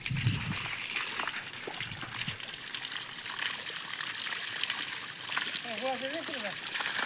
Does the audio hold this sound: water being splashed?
yes